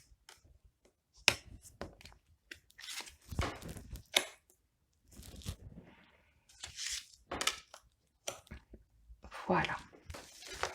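Tarot cards are shuffled and drawn in short, crisp bursts of rustling and snapping, close and quiet, separated by pauses.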